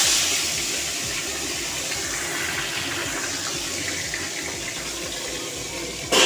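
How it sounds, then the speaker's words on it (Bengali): Tangra fish fry in hot mustard oil with a loud, steady sizzle. The close, continuous hiss fills the whole stretch without pause. "এবার মাছ দুটো তেলের উপর ছাড়ছি"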